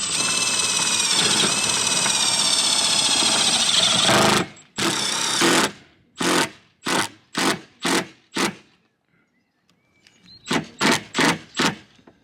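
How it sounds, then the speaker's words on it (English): A power driver drives a self-tapping screw into a VW Crafter van, a long loud whirring run followed by a series of short rhythmic bursts, a pause, then another quick cluster of bursts. "We're just going to secure it down as well with the self-tapper."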